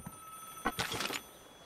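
A telephone in Vigor rings in a short electronic trill, a few quick bright pulses at moderate volume against a quiet hum.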